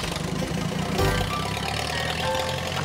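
A farm tractor's engine runs at a steady, close, loud drone with a rough, throbbing low rumble, with no one talking.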